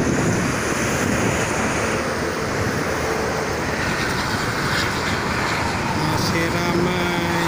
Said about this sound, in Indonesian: Anginnya cukup lumayan kencang pada kesempatan sore kali ini.